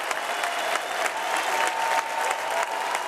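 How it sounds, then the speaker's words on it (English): A packed party conference hall applauds and cheers at the close of a keynote political speech, dense continuous clapping filling the room at steady loudness with crowd noise underneath. "the conference hall is on its feet. They're cheering out here"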